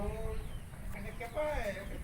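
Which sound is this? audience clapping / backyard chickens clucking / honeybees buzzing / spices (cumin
backyard chickens clucking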